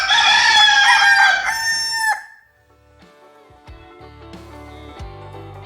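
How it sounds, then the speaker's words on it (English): A rooster lets out a long, loud, close crow with a rising and falling warble, then fades into quieter clucking and scattered farmyard sounds. "It's not so much like crowing, but crooning."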